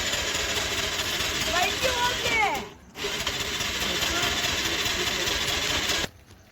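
A motorcycle engine is kicked and started, catching into a buzzing run, cutting out briefly, then running again before stopping, with voices talking over it.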